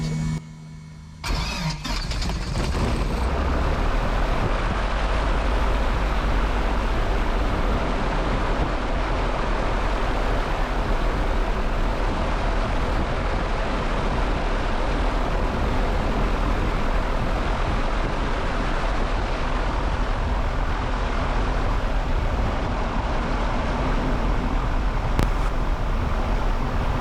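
The piston engine of a light training airplane cranks and catches, then settles into a steady, loud running drone that continues close by, with the propeller turning and no breaks in the sound.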